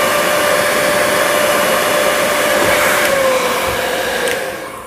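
Hair dryer blowing hot air onto a laptop screen, a loud steady whooshing roar with a high motor whine that holds throughout and then tapers off near the end. There is no talking.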